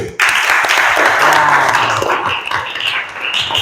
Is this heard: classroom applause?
yes